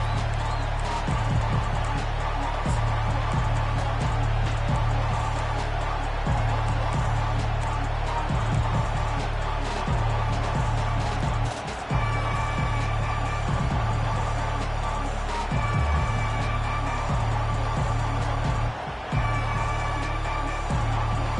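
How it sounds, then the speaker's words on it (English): A stadium crowd in the College Football 25 video game roars continuously and loudly throughout, a dense wall of noise with faint thuds and brief dips underneath. "This crowd bringing an ear-splitting welcome to their visitors"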